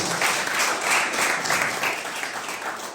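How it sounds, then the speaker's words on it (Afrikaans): Steady applause fills a rugby club's new kit launch held at a winery, a crowd clapping continuously at a fairly close, even level with no break. "Kom ons gee dit vir lekker hande klap"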